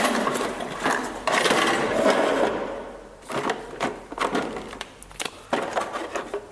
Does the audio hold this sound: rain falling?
no